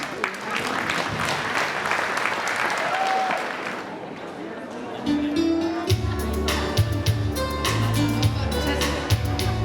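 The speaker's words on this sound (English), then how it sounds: "So please give her a round of applause." Audience applause at a launch event, a broad wash of crowd clapping for about four seconds that fades, followed by musical tones and other stage sounds.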